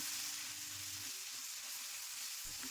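Onion and tomato frying in a pan with salt and Kashmiri chilli powder for a Bengali tangra fish curry, a steady close hiss of sizzling oil with faint stirring, no voices.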